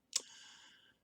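A single short click from a computer mouse button, faint and close, with a brief bright tail.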